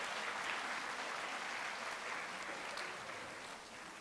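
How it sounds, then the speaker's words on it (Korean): A church congregation applauding a trainee called to the front, a steady, full round of clapping from many hands that fades slightly toward the end, with no voices over it. "박수로 환영해 주십시오."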